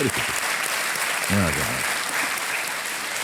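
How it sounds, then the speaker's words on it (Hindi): Studio audience applause fills the room on a game-show set, steady and loud throughout, with a host's voice briefly heard over the clapping. "तालियां बजती रहें देवियों सज्जनों"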